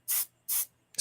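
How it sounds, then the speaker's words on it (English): A marker airbrush sprays ink onto a small sketch card in two even, soft hissing bursts with a pause between, then a third one starts right at the end. The spray is close and quiet, with no voices. "So I can just spray a little arc."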